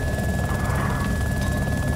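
A helicopter flying in the DayZ video game, heard from inside the cockpit: a steady, softened rotor and engine drone with a constant whine, even and unbroken.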